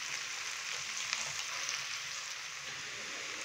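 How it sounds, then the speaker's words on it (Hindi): Ginger garlic paste frying in a pan for a dhaba-style mixed vegetable dish, a steady soft sizzle and hiss running throughout with faint stirring. "अदरक और लहसुन के पेस्ट को अच्छे से मिक्स करेंगे और हल्का सा हम इसको फ्राई कर लेंगे।"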